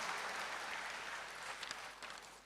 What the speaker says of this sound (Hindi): हम जोरदार तालियों से भाई सबका स्वागत करते हैं